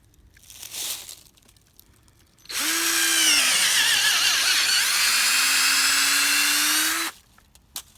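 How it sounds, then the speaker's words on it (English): A power drill bores a tap hole into a maple tree for sap collection, a loud steady whine that runs for about four and a half seconds with a slight pitch dip midway, preceded and followed by brief handling noises. "The thing that's nice about this drill is it really drills in fast, and it leaves me a core sample."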